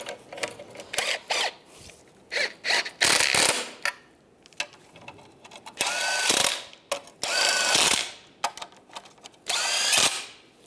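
A hand ratchet tightening nuts on a 1998-2010 Volkswagen Beetle power steering rack, rapid clicking bursts repeated about seven times with short pauses, close and crisp.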